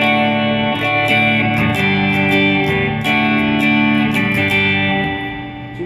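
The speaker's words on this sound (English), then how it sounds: "now you can go crazy with this reverb. I'm going to turn it up to about 9." Through a Fender Hot Rod Deluxe III amp with spring reverb cranked to about 9, an electric guitar strums overdriven chords that bloom into a thick, lingering wash, close and steady with no talking.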